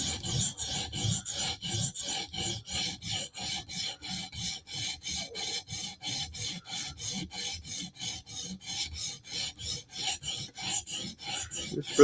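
A Spyderco Slysz Bowie knife is being sharpened on CBN stones, giving a steady rhythm of close, crisp rasping strokes that repeat about twice per second with no voices.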